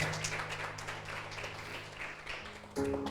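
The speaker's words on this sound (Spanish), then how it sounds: "Vamos, si vas a aplaudir, apláudele fuerte a Él." A church congregation claps and applauds together during a service, a steady, moderately loud wash of hands with some held tones underneath, ending with a sharper swell near the end.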